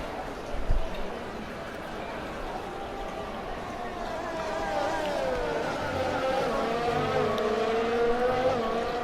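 A Formula 1 car's engine screams from the onboard view in the F1 2020 video game at the Russian Grand Prix, its pitch sweeping up through the gears in a steady, loud whine.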